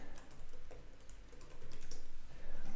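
Typing on a computer keyboard during spreadsheet work in Excel, with quick close key clicks in an uneven run that grows louder toward the end, no voices present.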